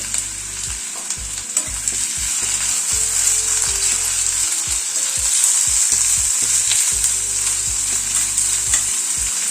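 Sliced onion frying in hot mustard oil in a wok over a high gas flame, a loud steady sizzle running throughout with repeated low clunks and scrapes of stirring.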